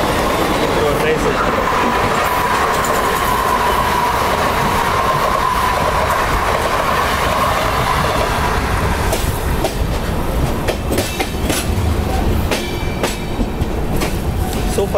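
Trivandrum Rajdhani Express running along the Konkan railway, a loud steady roar of wheels on track with rhythmic clickety-clack and a faint whistle-like tone, heard close from on board throughout.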